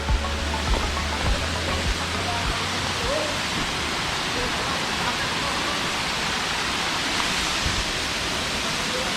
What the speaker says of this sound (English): this is my first waterfall I've seen